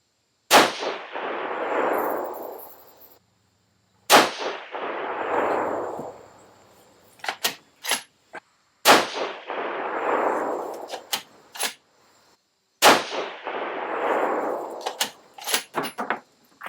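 Four loud, sharp rifle shots from a Savage 110 in 6.5 Creedmoor firing 123gr SST loads, evenly spaced about four seconds apart, each with a booming echo that decays before faint clicks and clatter of the action.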